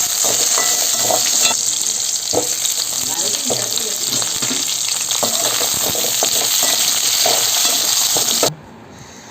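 Tomatoes, shallots and about five dried red chillies sauté in a pan for tomato chutney, giving a loud, continuous sizzle with scattered stirring knocks that cut off abruptly near the end.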